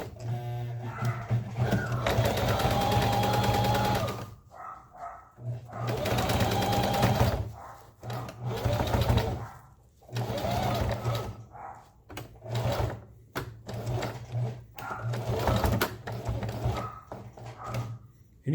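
Sewing machine stitching fabric for a DIY rappel rope bag, running in several loud, steady bursts with short pauses between them while a person talks quietly.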